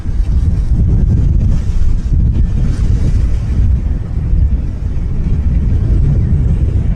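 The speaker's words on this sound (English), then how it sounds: "So now the wind's blowing right into the microphone" Heavy wind buffets a Rode VideoMicro microphone without a break, a loud low roar and rumble that fills the whole clip.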